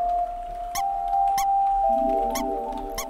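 Glowing mushroom in the Undertale video game gives off a bright squeaky chirp, a few short high-pitched bursts spaced across the moment over a steady electronic tone from the game's background music.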